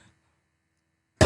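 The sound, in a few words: cough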